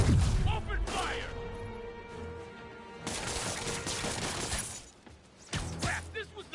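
Criminals' gunfire in Marvel's Spider-Man, with bursts of shots, crashes and smashing debris in a busy combat mix, voices shouting over the action in places.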